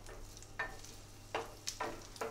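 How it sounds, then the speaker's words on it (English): Mackerel sizzling in a hot pan, a steady crackle with a few louder bursts of spitting oil, close by and moderately quiet. "get this sizzling away"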